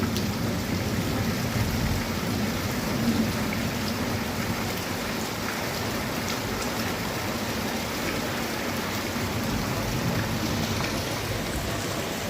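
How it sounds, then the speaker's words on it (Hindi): Heavy rain pouring steadily over a village in Pakistan, a dense continuous hiss of drops on surfaces with low rumbling underneath, unbroken for the whole stretch with no voices. "हमारे देहात की बारिश इस तरह होती है।"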